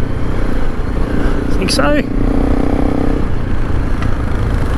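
Suzuki DR dual-sport motorcycle engine running steadily during a group trail ride, a constant close droning hum under wind noise while a rider speaks briefly over it.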